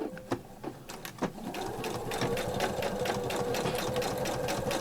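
Sewing machine stitching the side of a fabric bag, a few separate clicks first, then a steady, close, rapid mechanical whirring and ticking that runs continuously to the end.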